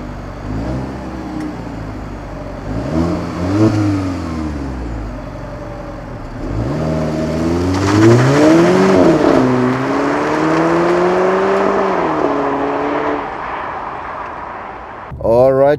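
A 2017 Alfa Romeo Giulietta 1.8 TBi 16V MultiAir accelerating hard from inside the cabin, the engine note rising through several gears with clear dips at each shift, loud and steady throughout.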